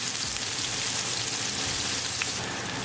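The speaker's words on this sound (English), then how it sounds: "We're going to saute our onion." Onion sautéing in a pan after cumin seeds have gone in, giving a steady dense sizzle that runs without a break, close and fairly loud, with no talking.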